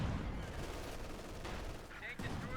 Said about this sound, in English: Another artillery strike.